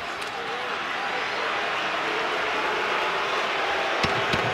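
Arena crowd at a boxing match between Danny Garcia and Lamont Peterson, a loud, continuous roar of disapproving voices and jeers that holds steady throughout, with a couple of brief sharp accents near the end.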